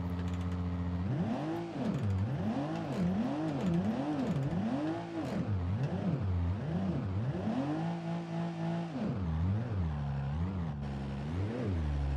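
A car engine in the BeamNG.drive video game revs hard at full throttle, wavering up and down in repeated surges before holding a steady high pitch, loud and alone.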